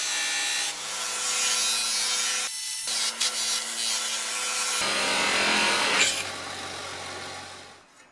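Steady rasping strokes of sanding on a BMW E30 M3 tool kit wheel alignment tool, close and fairly quiet, a continuous rough rubbing with brief pauses and shifts in pressure.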